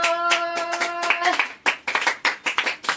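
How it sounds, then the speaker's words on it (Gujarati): A small group claps for Mehul, the winner of a wristwatch in a home challenge. A brief sustained voice comes first, then a quick run of close, sharp hand claps in an uneven, lively rhythm. "મેહુલ માટે તમારે તાળી વગાડવી પડશે"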